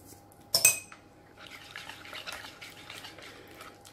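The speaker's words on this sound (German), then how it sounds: "Jetzt ist der Knoblauch drin. Schön umrühren." Garlic being stirred into onion meat in a pot, one sharp metal clink of a spoon on the pot followed by soft, rustling stirring and a faint background hum, close and quiet with no talk.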